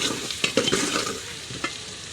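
A spoon stirring red chilli and salt in a hot pan, several quick scraping strokes over a soft continuous sizzle, close and fairly quiet.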